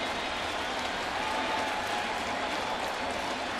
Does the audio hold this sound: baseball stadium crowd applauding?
yes